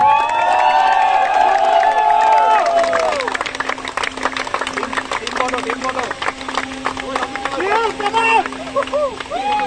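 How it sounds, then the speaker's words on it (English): Crowd at a T-10 cricket league trophy presentation in Dhaka cheering, whooping and clapping for the winning team, a loud burst of shouts that settles into scattered applause with voices over it. "a huge round of applause for the winning team."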